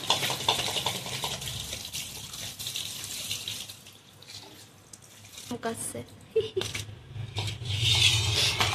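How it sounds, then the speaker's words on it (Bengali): Cold water pours into a pot while making homemade flour pasta, a splashing, rushing stream with clattering of the vessel, uneven in loudness and swelling again toward the end, with a voice speaking over it. "এবারে ঠান্ডা জল দেবো, ঠান্ডা জল দিচ্ছি এবারে ভিতরে"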